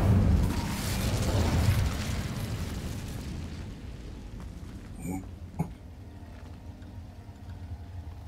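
A loud fiery whoosh and rumbling blast from an Incendio fire spell in Hogwarts Legacy, strongest at first and fading over several seconds into a quieter ambience with a couple of sharp clicks.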